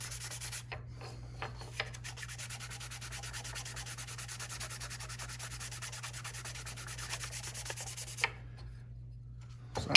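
Oil being rubbed by hand into the wood of a handmade marking gauge, a steady close soft rubbing that runs unbroken for most of the clip with a few light knocks, alone without talk.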